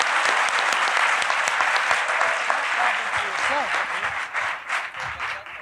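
Audience applause at a community panel event in Houston, loud and sustained clapping that thins out near the end as a voice begins speaking over it.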